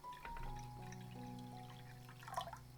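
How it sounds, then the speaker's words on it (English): Clean water pours into a small pot on a stovetop for cooking potatoes, a soft trickling splash with a low hum underneath, fairly quiet and without talk. "let's carefully place a small pot on the neighboring burner and pour in some clean water for our potatoes"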